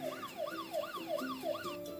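Looping wail of a cartoon police car siren from the Fun Town for Kids iPad app, rising and falling about twice a second, steady and clear with no talking.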